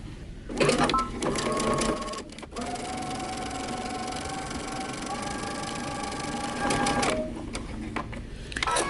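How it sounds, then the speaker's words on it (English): A sewing machine stitches around an armhole and neckline in several bursts of rapid whirring, separated by short pauses, close and moderately loud. "Now we're going to go to the sewing machine."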